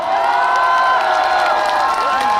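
Concert crowd in Yangsan cheering and applauding for a singer at a festival show, a dense, steady wash of voices and clapping throughout, loud and close.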